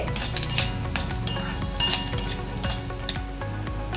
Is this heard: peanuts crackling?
yes